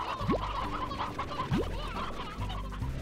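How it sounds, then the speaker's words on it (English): Chickens cluck in the Slime Rancher video game, with several short bursts of clucking close by. Two quick rising swoosh effects cut through, and no voices are heard. "a bunch of chickens just flew out there"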